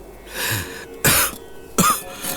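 Several harsh coughs, close and loud, in a short sequence with brief pauses between them, no talking.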